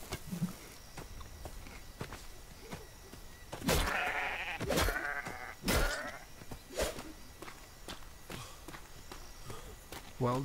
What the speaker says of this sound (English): Wild sheep.